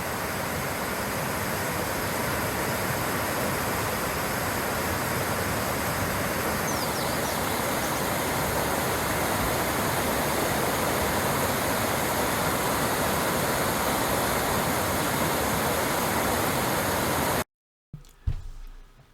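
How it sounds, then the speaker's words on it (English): Steady, loud rush of the Sydenham River churning below waterfalls, continuous and unbroken, ending with a brief cut and a few knocks. "Beyond the waterfalls, the Sydenham River flows with determination towards Georgian Bay."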